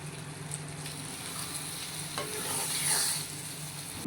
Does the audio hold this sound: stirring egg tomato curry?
yes